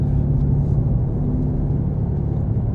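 A Dodge Charger Daytona R/T engine held under light throttle, a loud, steady low rumble heard from inside the car, with no one speaking over it.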